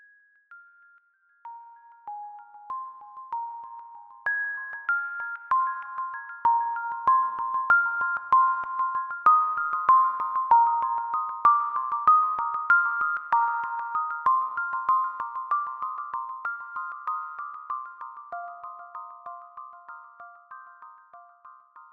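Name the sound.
synthesized bells with LFO-modulated volume, acModules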